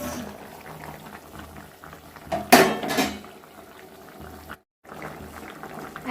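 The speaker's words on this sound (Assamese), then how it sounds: "আৰু এতিয়া দি দিম ভাজি ৰখা বৰাখিনি" Masoor dal fritters (bora) dropped into a pot of salted boiling water for a raw-banana curry bubble steadily, with a sharp splash and clatter near the middle before the simmer settles again.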